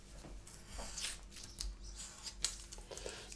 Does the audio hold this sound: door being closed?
no